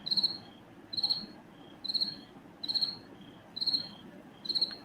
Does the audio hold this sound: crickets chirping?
yes